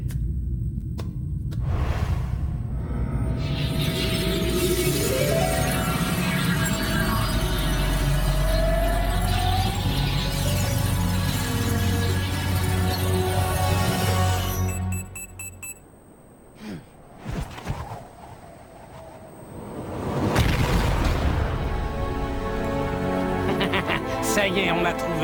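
Cartoon energy blast charged up and exploding a rock, a long loud rising whooshing buildup with ringing tones, a sudden drop to near silence, then a second roaring burst, with voices talking over parts of it.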